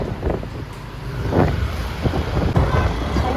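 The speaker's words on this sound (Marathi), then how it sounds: "थंडगार वारा." Cool wind blowing outdoors in Pune, buffeting the microphone in uneven gusts with a low rumble throughout and no talking.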